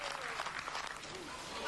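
Applause greets the unveiling of the Ferrari F300 Formula 1 car, a dense sustained clapping from a crowd, heard briefly and fairly faint.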